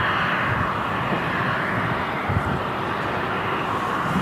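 A Virgin Atlantic airliner taxis at Manchester Airport, its jet engines a steady, loud, broad roar that holds throughout, with wind noise on the microphone.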